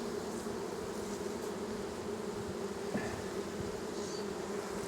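Honey bees buzz in a big, crowded hive, a dense continuous drone that stays close and even throughout with no voices.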